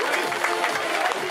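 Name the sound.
audience applause at women's cycling race podium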